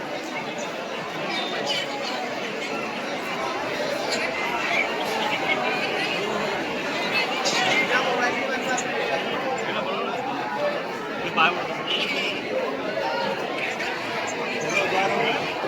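A dense crowd chatters continuously at the Barsana Holi festival, with many overlapping voices forming a steady, loud murmur and occasional brighter shouts rising above it.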